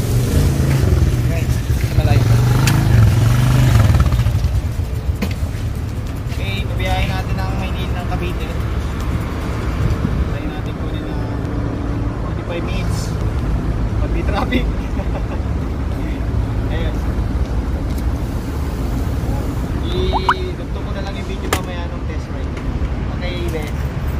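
A Kawasaki Z1000 1000cc motorcycle shipped from Cebu idles with a low, steady engine rumble, strongest at first and then fading under ongoing conversation.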